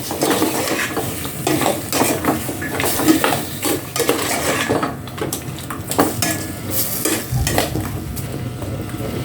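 Chicken and chayote stirred in a metal pan, with repeated close scraping and clanking of a spoon against the pan over a soft background sizzle, no voices.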